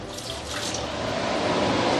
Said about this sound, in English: I will put some water here.